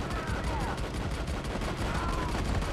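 Rapid gunfire from the video game Army of Two, fired during a hovercraft sequence, comes as a dense, continuous stream of shots over steady loud background noise.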